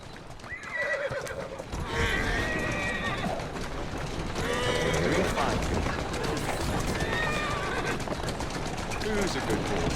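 Horse neighs and whinnies loudly in the video game Assassin's Creed Syndicate, with steady clip-clop of hooves and busy street noise throughout, while someone talks over it.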